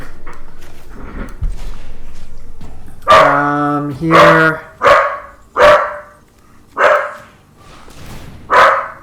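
A pet dog barks at another dog outside in a run of loud, close, separate barks, about six of them spaced a second or so apart, with a short spoken word heard in the room before them.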